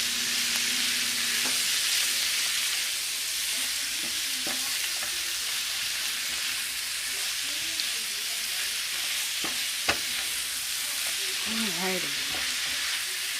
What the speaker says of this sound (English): I'm just going to go ahead and stir that in there